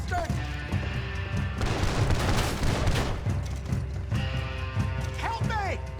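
Rapid video-game gunfire crackles in dense bursts through much of the stretch, with a shouting voice and other game dialogue layered over the shots at close range.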